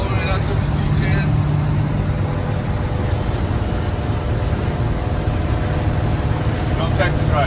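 A 1966 Ford F100 truck cruises along the road at steady speed, giving a constant, loud drone of engine and road noise heard from inside the cab without change for the whole stretch.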